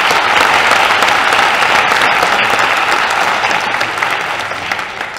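Sustained audience applause at a senior honors night awards ceremony, a dense wash of many hands clapping steadily, close and loud, slowly tapering toward the end.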